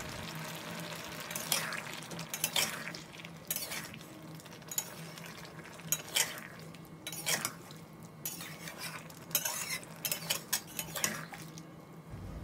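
Fried shrimp stirred in a pan with a metal utensil, repeated scraping and clinking strokes at an uneven rhythm over a faint background hiss, close and moderately loud, with no talking.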